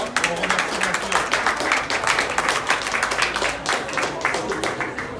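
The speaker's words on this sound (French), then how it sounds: "on peut l'applaudir" An audience at a weather and climate forum applauds with dense, steady clapping from many hands, loud and close, lasting for several seconds without a break.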